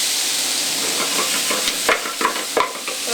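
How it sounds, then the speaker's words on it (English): Butternut squash sautéing in oil in a frying pan gives a loud, steady sizzle, broken by a few brief scraping and stirring clacks as the pieces are moved around. "And I just wanted to saute this a little bit."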